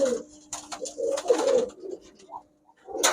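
Soft coos from Giribaz high-flyer pigeons close by, a few low burbling calls with brief pauses between them and some rustling.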